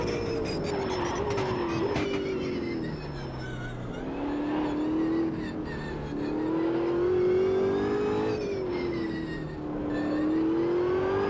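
A race car engine in the racing game Automobilista 2 drones and revs continuously, its pitch rising and falling with gear shifts, steady and close with no talking.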